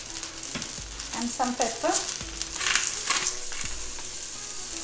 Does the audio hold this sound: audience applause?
no